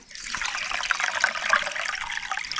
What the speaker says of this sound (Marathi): आता आपल्याला ह्याच्यात पाणी ओतायचं आहे